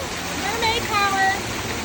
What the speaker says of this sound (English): look at this incredible waterfall that I get to play in